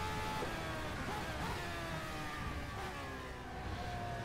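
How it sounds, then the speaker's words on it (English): A classic McLaren Formula One car's Ford Cosworth V8 in the racing game rFactor 2, a continuous high-pitched engine howl with shifting revs, loud and close, alone without talk. "I loved this sound of these classic Formula One cars back in the day."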